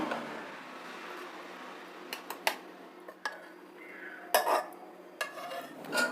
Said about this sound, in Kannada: ಬೆಂದಿರೋ ಸೊಪ್ಪನ್ನ ಮಾತ್ರ ಮಿಕ್ಸಿ ಜಾರ್ಗೆ ಹಾಕೊಳ್ತಾ ಇದ್ದೀನಿ